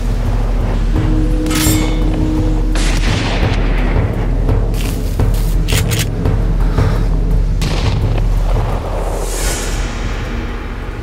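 Gunshots and booms from a trailer for an Icelandic crime thriller in which a hunter is shot at by an unknown gunman; repeated loud sharp blasts over a rumbling score, with sparse impacts spread across the clip.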